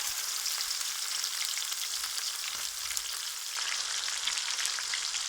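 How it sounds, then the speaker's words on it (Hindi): Vegetables fry in a pan with a steady, dense sizzle and occasional soft stirring sounds, close and continuous throughout. "मटर शामिल करने के बाद तकरीबन 10 मिनट के लिए अच्छे तरीके उनको फ्राई कर लें"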